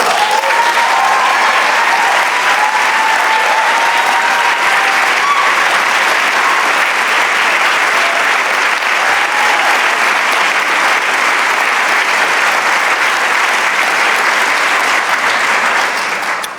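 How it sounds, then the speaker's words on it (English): Sustained applause from the audience at the Wisconsin governor's 2026 State of the State address, a dense and steady wash of clapping at full loudness that carries on without pause for about sixteen seconds. "Thanks for the applause."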